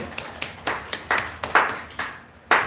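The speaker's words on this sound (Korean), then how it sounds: "지금 우리 박수 한번 쳐주세요" A church congregation claps in a loose, uneven series of about ten distinct claps spread across a couple of seconds, sounding like a small group in a room rather than a full ovation.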